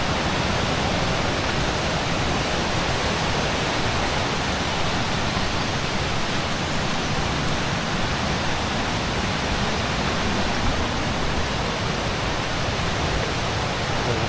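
Heavy rain pours down in a mountain forest, a dense, loud, unbroken roar of falling water that stays constant throughout with no voices.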